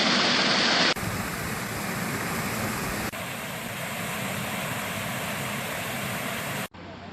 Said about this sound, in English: the water comes down, goes under the bridge, and comes out down to a waterfall